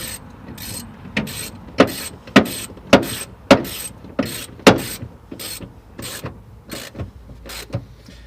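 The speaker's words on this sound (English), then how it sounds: "We just gotta tighten up these 2 bolts on the fan shroud" A ratchet tightens fan shroud bolts on a car, sounding as about a dozen sharp clicking strokes in an even back-and-forth rhythm, close and alone with no talk.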